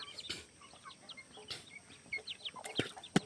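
Chickens clucking and chirping while they eat, soft scattered calls and short cackles at moderate distance over a quiet background, with a few sharper knocks near the end.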